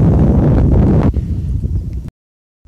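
Wind gusting loudly across open water during trotline crabbing on a boat, a steady rough roar for about two seconds before cutting out.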